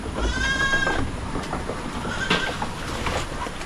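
Several goats bleat on a farm, giving a few nasal, wavering calls near and far over a dense, steady background noise.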